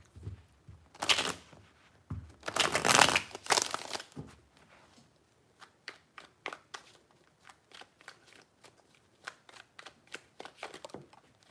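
Tarot cards are shuffled in several bursts of dense riffling and crinkling, followed by quieter scattered taps and slides of cards, close and fairly soft with no talk.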